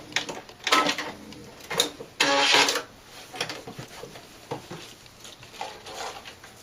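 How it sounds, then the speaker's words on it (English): A sewing machine runs a zigzag stitch across a doll dress's top edge above the armhole, in short stop-start bursts of motor whir and needle chatter, with one longer, louder run in the middle. "we're going to take the sewing machine, cross the top edge over above the armhole, and just do a little zigzag stitch"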